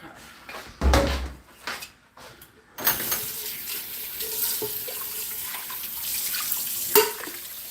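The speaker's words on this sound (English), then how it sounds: "so I gotta wash my cabbage" Water running from a kitchen tap into the sink for washing cabbage, a steady hissing stream close by after a few clunks and knocks, with a brief rattle near the end.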